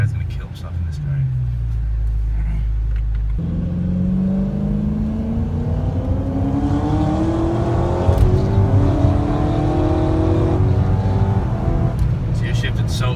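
A supercharged BMW M3 engine revs as the car drives, a rising whine and growl climbing in pitch through the gears from inside the cabin. Occupants talk over the loud engine.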